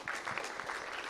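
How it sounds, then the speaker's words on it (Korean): Applause from a conference audience at a Korean occupational safety and health research seminar, a dense steady patter of clapping lasting about a second with no talk. "큰 박수 부탁드립니다."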